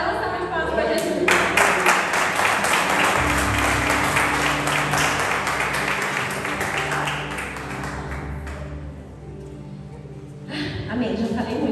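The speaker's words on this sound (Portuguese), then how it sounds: "dá uma salva de palmas para Jesus." A church congregation in Osasco applauds for a long stretch, with crowd clapping mixed with voices and other room sound before it dips and briefly swells again.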